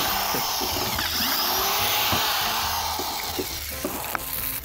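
A power tool whirs continuously while drilling out screws in a makeshift kitchen setup, loud and steady with brief bursts and clunks, people talking faintly under it.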